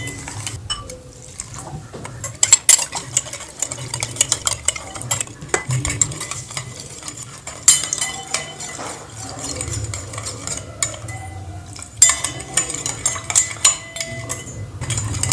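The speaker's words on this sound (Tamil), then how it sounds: "சர்க்கரை போட்டு கலந்தாச்சு." A spoon stirs sugar into freshly squeezed lemon juice in a glass, clinking and scraping against the sides in quick, irregular bursts with soft liquid swirling between them.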